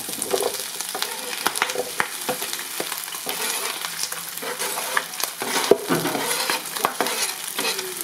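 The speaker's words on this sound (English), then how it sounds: "go over to my skillet here real quick. And we're going to start putting the Brussels sprouts in there." Brussels sprouts sizzle and crackle steadily in a hot skillet, with sharp clatters and stirring scrapes at several points through the frying, loud and close with no talking.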